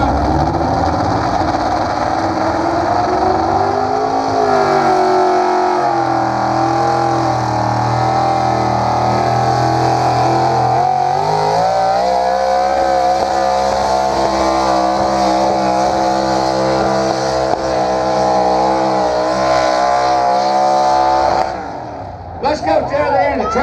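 Carbureted big-block tractor pull engine at a Columbus, Texas pull, roaring loud and close with shifting revs and sustained heavy drone for over twenty seconds before cutting off abruptly.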